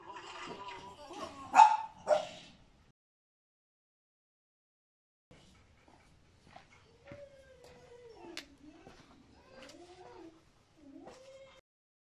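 A Cane Corso being trained lets out a few loud barks close by, then after a pause gives softer, drawn-out whining and yelping sounds at an irregular pace.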